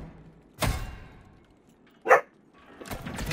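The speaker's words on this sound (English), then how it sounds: "Boys, please stop barking." Dogs bark indoors in a room: a couple of sharp, loud barks near the mic with a thud, separated by quiet gaps, while game sounds play in the background.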